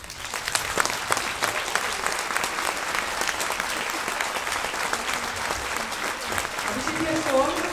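A live audience claps together in a sustained round of dense applause, with some voices mixed in beneath the clapping.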